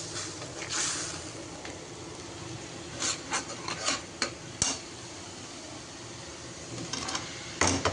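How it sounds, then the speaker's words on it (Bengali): Fish roe being stirred and fried with spices in a pan, scraping spatula strokes and soft sizzling in a quiet kitchen, with scattered louder scrapes and clanks. "আর এদিক দিয়ে ডিমটাও একটু কষিয়ে নিচ্ছি।"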